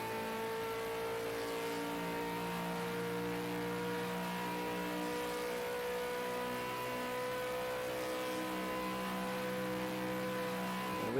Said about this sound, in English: I'm sure he's going to crack up a burnout at the end of the race